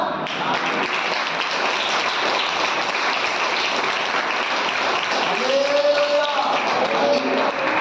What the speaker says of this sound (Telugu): అట్లా కొట్టాలి, అట్లా తట్టాలి చప్పట్లు.